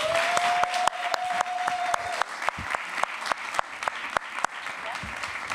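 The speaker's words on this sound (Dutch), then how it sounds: "Nog een hard applaus" An audience applauds at a talk event with sharp, close individual claps over a broader crowd clatter, lasting several seconds, with a brief tone and some voices in the background.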